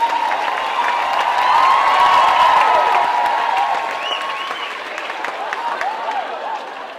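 Theatre audience at Venue Cymru applauding and cheering loudly and steadily, with whoops on top, swelling in the middle and thinning out toward the end.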